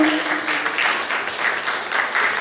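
A crowd clapping at a music video launch event, sustained even applause with faint murmurs of voices underneath.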